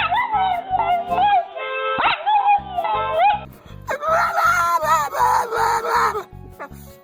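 A dog vocalises in a drawn-out, howling whine with yips and whimpering pitch swings, sustained for several seconds alongside a steady rhythmic pulsing beat in the background.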